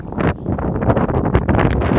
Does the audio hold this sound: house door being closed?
no